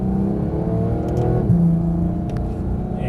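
A Porsche GT3 pulls out onto a racetrack, its engine droning and rising steadily up close as the car accelerates, with a brief shift partway through and no talk over it.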